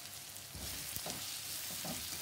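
Tomatoes fry in a pan for a Himachali sweet bitter gourd curry, giving a steady close sizzle with a few scraping stirs of a spoon partway through.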